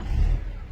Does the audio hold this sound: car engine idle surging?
yes